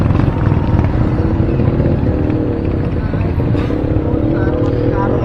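A motorcycle's aftermarket muffler, freshly refibered, runs with a loud, steady, rough exhaust drone held close and continuous throughout, with no clear revving or breaks.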